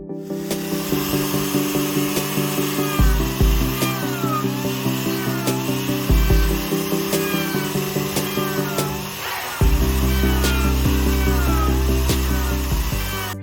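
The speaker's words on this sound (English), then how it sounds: "I decided to use just one, the 7/8 inch sphere burr in coarse grit" A rotary tool fitted with a coarse-grit 7/8 inch sphere burr carves texture into a wooden chair outdoors, a steady high whine with grinding scrapes and brief pitch dips as it bites into the wood.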